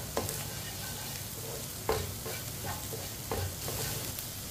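Egg and okra fry in a pan with a soft continuous sizzle, as a spoon scrapes and stirs through them in a few distinct strokes, close and fairly quiet.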